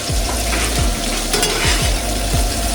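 Beef heart sizzling and sautéing in a cast iron pan on a new Coleman camp stove, a loud steady frying hiss up close with repeated scraping stirs of a utensil.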